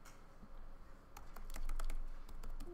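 Computer keyboard typing entering data into a spreadsheet program, a quick run of soft clicking keystrokes starting after a brief pause, close and fairly quiet over faint room noise.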